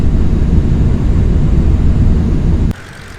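A light twin-engine Beechcraft Baron drones in a flight simulator game, a loud dense low rumble that holds steady and then drops abruptly to a quieter hum near the end.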